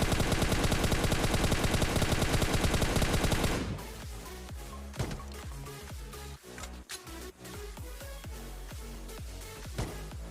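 Pistol gunfire in a battle royale video game: a dense rapid burst of shots for several seconds, then sharp separate shots at irregular intervals, loud and close.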